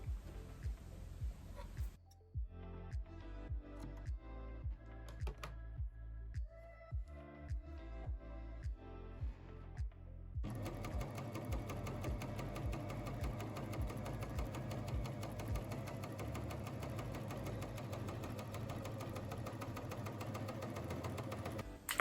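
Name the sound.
Janome 3000 Coverpro sewing machine top cover stitching over thick seam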